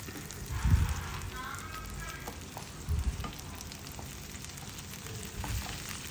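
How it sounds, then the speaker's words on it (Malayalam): Curry leaves sizzling in a pan of yogurt curry, a soft continuous frying hiss with a few louder bursts of spattering, while a voice talks quietly now and then. "നമ്മൾ ഇനി ഇതിലേക്ക് വേപ്പിലിടാണ്."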